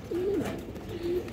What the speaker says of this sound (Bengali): এই যে মাদিটা দেখেন দর্শক মাশাআল্লাহ খুবই সুন্দর কবুতর